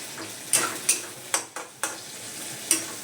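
Onion, ginger, garlic and tomato sautéed in a pan, with a spatula scraping in sharp, evenly spaced strokes over a constant sizzling hiss, loud and close.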